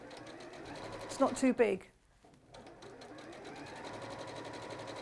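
A Juki sewing machine quilting, its steady fast mechanical stitching whir running close behind most of the clip, pausing briefly midway, with people talking over it.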